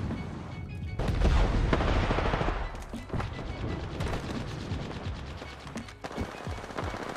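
Gunfire on the Worlds Edge map in the video game Apex Legends: a heavy burst of shots and booms at first, then scattered rapid automatic fire and single cracks continuing to the end, loud and close.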